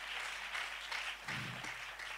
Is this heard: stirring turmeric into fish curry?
no